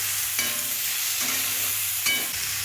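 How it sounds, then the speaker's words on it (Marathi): Tomatoes frying and being stirred in hot oil with browned onion, a steady close sizzle broken by a few scraping stirs of the spoon; no one speaks. "टोमॅटो चांगला सॉफ्ट होईपर्यंत त्याला व्यवस्थित तेलामध्ये परतून घ्यायचं"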